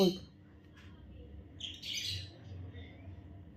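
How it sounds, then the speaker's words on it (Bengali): Birds chirping outdoors as short, faint-to-moderate bursts of high calls, with one brighter flurry in the middle, over a quiet background. "দেখো দেখো আওয়াজ শুনতে পাচ্ছ পাখির, কথা বলতে দেবে না আমাকে"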